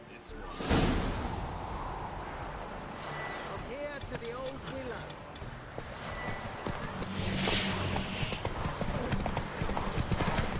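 Roach, Geralt's horse in The Witcher 3, gallops with steady rapid hoofbeats, a brief whinny partway through, while voices talk over the run.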